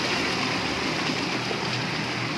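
Flood water rushing out from underneath a gate, a steady broadband wash of flowing water, close and constant with no breaks, during heavy rain.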